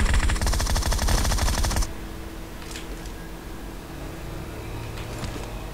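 Rapid automatic gunfire from a PUBG Mobile match, a dense burst of shots that cuts off abruptly after about two seconds, followed by quieter game ambience with a few faint distant cracks.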